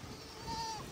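A goat bleats once on a farm, a single drawn-out call rising clearly above quiet outdoor background noise.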